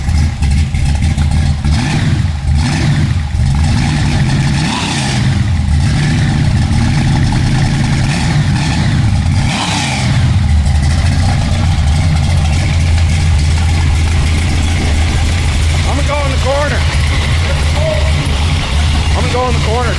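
Supercharged 496 big block Chevy breathing through Flowmaster mufflers, a loud, lumpy idle rising into repeated revs and falling back, with voices talking nearby over the rumble.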